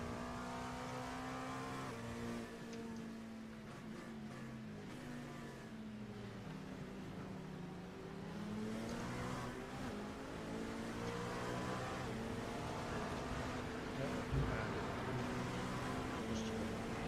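Race cars in an iRacing endurance race roar continuously, engine notes rising and falling as they accelerate and shift, with other cars close behind and no talk.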